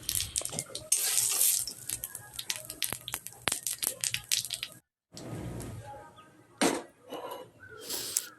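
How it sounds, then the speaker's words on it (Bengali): Cumin seeds and dried red chillies sizzle briefly in hot oil for a village-style mung dal tempering, heard as close, intermittent crackles and pops with short pauses and quiet gaps between bursts. "এবার একটু জিরে ফোড়ন দিয়ে দিলাম।"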